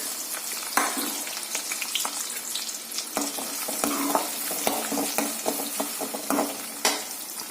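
Chopped onions sizzle and fry in hot oil for a karela bhaji, with a steady crackling hiss broken by sharp clinks and scrapes of stirring, no voices.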